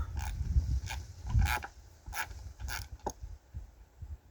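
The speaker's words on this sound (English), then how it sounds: "There's the ratchet." A ratchet wrench works a nut on a machine bolt with a washer while building tomato supports. It gives a series of short, close, uneven clicking and ratcheting bursts with brief pauses and no speech.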